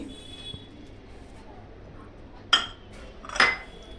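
A spoon stirs a laddu mix of date powder, dry coconut, cashews and almonds for green moong laddus, with two sharp scraping clinks against the bowl over a quiet, faintly humming kitchen background.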